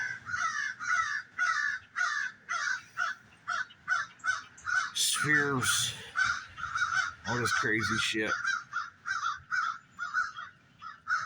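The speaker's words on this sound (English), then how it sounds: "Haven't seen these birds for quite some time." Crows caw again and again in a loud, rhythmic run of harsh calls while someone talks over them.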